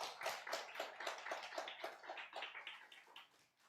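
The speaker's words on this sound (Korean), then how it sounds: "박수 쳐주세요." Rhythmic clapping from a small church gathering right after a prayer, a steady beat of distinct, fairly close claps that tapers off slightly toward the end.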